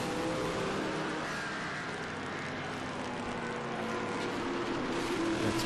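A stock race car runs on the VIR road course, its engine a steady broad roar with no clear pass-by peak, moderately loud and continuous.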